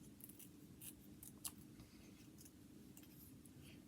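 Scissors snip through paper in a few quiet, crisp cuts spaced irregularly over faint room noise.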